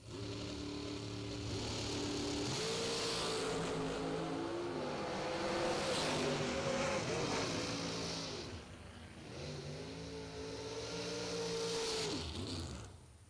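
Drag race cars roar and rev hard at a bracket racing event, engines climbing and falling in pitch through repeated loud acceleration passes, close and dominant, with no talk over them.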